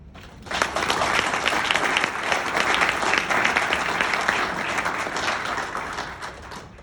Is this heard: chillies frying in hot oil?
no